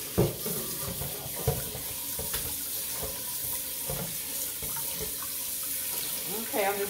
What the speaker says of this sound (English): I'm just rinsing my pot out here so I can start over my cooking process.